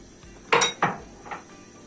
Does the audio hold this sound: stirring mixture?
yes